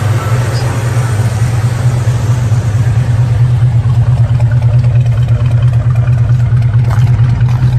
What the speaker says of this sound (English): And there you can hear the dual exhaust.